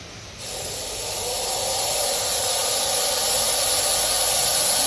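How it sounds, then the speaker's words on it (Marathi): A provoked Russell's viper hisses loudly and continuously at close range, a sharp breathy sound like a pressure cooker whistle that swells after a brief quieter start and then holds steady. "हा चिडल्यानंतर कुकरच्या शिट्टीसारखा आवाज करतो"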